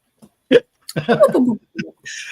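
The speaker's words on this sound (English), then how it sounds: "who's got the hiccups?" Sharp hiccups break out a few times amid a short burst of voice, with brief gasping catches standing out near the microphone.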